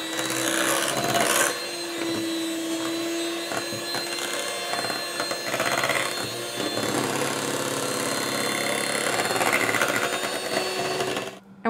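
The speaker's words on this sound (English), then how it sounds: "And now I'm gonna turn on my mixer and get that perfect pink." A hand mixer whips rose-scented body butter with pink colorant, running as a loud steady motorized whir with rattling beater clatter throughout, cutting off at the very end.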